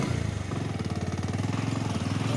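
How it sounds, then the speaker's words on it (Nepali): A motorcycle on a hometown road rumbles close by, its engine giving a steady, rapid throbbing pulse with no pause across the short stretch. "अर्को बाइक चाहिँ आएको"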